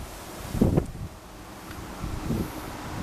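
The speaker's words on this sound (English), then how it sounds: "it's really windy out here" Gusts of wind hit the microphone outdoors beside a Ford F150 XLT pickup, two low rumbling buffets over a quiet hiss of moving air.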